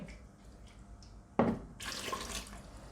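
Running water rinses a glass at a kitchen sink: quiet drips at first, then a sudden splash and a steady stream of tap water pouring and swirling in the glass.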